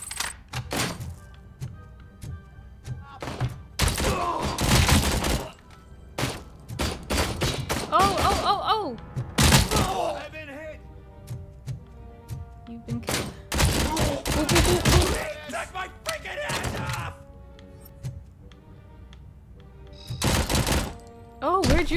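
Repeated bursts of gunfire in the RoboCop Rogue City video game, loud clustered volleys and single heavy shots spread across the stretch with sharp gaps between them, no talking over it.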